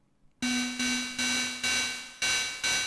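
An Arturia MicroFreak synthesizer plays a ride-cymbal-like synth patch, five bright metallic hits in a steady rhythm, each decaying quickly over a sustained tonal hum after a short silence.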